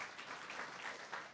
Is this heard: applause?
yes